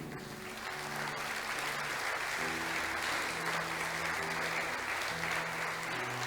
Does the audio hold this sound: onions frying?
no